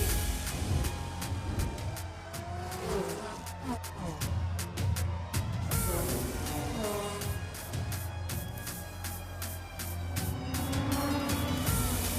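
Several cars roar off together at a race start in an action film, engines revving and tires hissing continuously and loudly, with music and effects layered over the motor noise.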